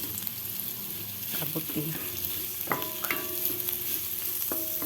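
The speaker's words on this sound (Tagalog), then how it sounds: "Tayo magsangkot siya ng bawang at sibuyas na may kaunting sili" Garlic, onion and chili sautéing in a pan, a steady close sizzle broken by several utensil scrapes and knocks as the mix is stirred, with a voice talking briefly.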